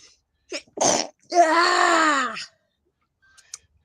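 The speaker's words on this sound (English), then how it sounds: "We can take a sneeze break." A voiced, drawn-out sneeze follows quick sharp intakes of breath, ending in a tonal exhale; close and fairly loud, then near silence.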